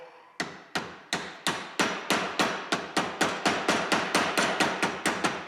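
Steady hammer blows on a rivet set inside a small cast piece of a Model T Ford transmission, about sixteen sharp metallic strikes in an even, slightly quickening rhythm, close and loud with no talking.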